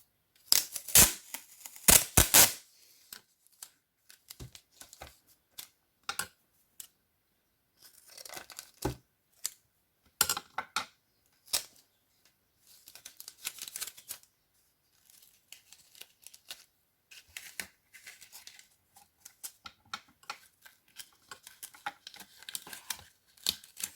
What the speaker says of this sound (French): je viens remettre mon scotch dedans pour que ça tienne bien